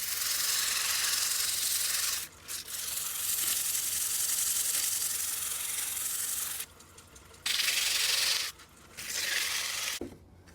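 Sandpaper rubs steadily against a wooden spoon rest spinning on a lathe turned down to about 750, a continuous hissing scrape broken by a few short pauses and resuming close and loud.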